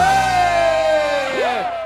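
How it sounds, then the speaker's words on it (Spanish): A concert crowd at an orchestra performance during the San Froilán festival in Lugo lets out a brief loud shout over ringing music, with whooping voices swelling near the end. "Ahí está, grito fuerte, grito"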